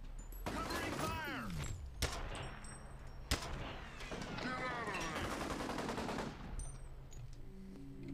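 Rapid bursts of gunfire from the first-person shooter F.E.A.R., with sharp individual shots and volleys running through most of the stretch, loud and close, while someone talks over the combat.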